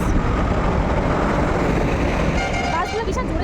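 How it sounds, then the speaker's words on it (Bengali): Buses and other traffic pass loudly on a road near a flyover in Krishnanagar, with a steady dense roar and a faint horn toward the end. "বাসগুলো বিশাল জোরে জোরে যায়।"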